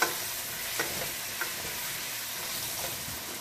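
Potatoes tossed and stirred in a hot pan for a summer vegetable dish with yellow beans, a close steady sizzle broken by a few spoon scrapes and knocks.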